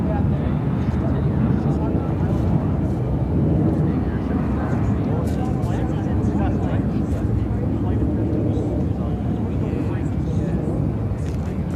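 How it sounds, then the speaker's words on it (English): A Boeing 747-400 freighter of Atlas Air, arriving from Anchorage at Chicago O'Hare, gives a steady, loud, continuous jet roar with broadband rumble throughout, while voices talk over it. "747-400 freighter."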